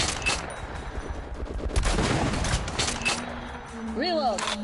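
Gunshots fire in quick bursts of sharp cracks and rattling volleys, moderately close, mixed with mechanical clicks, while voices talk over the shooting.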